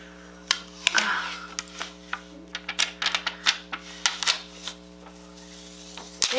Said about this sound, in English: I just realized that this mirror had a plastic on it. So let's peel that off together.